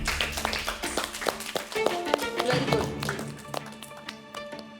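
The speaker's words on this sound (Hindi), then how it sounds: "जोरदार तालियां हो" Audience clapping on a Hindi reality game show set, scattered handclaps building then thinning out over a background of music with sustained tones, moderately loud and fading toward the end.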